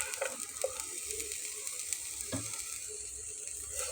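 Cumin, green chili and chopped onion fry in a pan with a soft, continuous sizzle, faint and close, with a few light scrapes or stirs and no talking.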